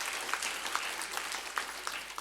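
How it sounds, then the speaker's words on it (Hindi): An audience applauds guests at a formal function, a steady wash of many hands clapping with a few sharper individual claps standing out, fairly near and continuous without speech. "आप एक बार थोड़ा जोर से तालियां बजाएं जो हमारे आगंतुक अतिथि हैं उनके लिए"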